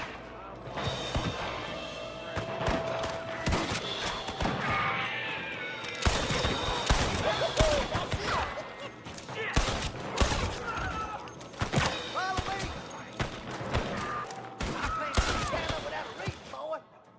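Gunfire in Red Dead Redemption on Xbox 360: rapid scattered shots and heavy thuds of a running shootout, dense and loud throughout with shouted voices mixed in.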